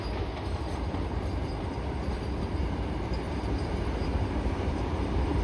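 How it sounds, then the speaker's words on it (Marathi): A train rumbles past close by, with a continuous heavy roar of rolling wheels and carriages that never lets up. "ही तर एकदम खतरनाकच रेल्वे आले"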